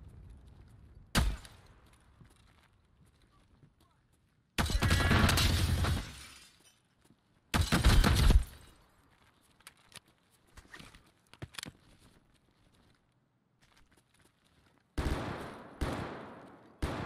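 Several sharp bursts of gunfire ring out in the Escape from Tarkov video game. A single shot comes first, then two longer automatic volleys, then another burst near the end, all separated by quiet stretches.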